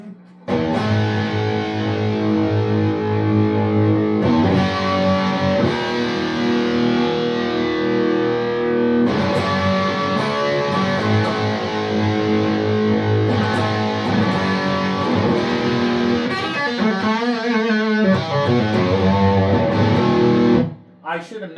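Distorted electric guitar through a Bogner Helios 100W amp head with the gain fully up gives a crunchy tone, with loud, continuous chords and riffs and a short bend near the end before it cuts off.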